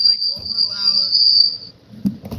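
A loud, continuous cricket chirp, a steady high-pitched trill, fills most of the moment before cutting off, with some background rumble beneath it.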